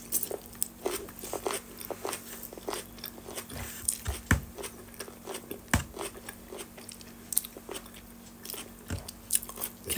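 Someone bites into and chews a salad up close, producing repeated crisp crunches in an uneven rhythm over a quiet background, with no talking.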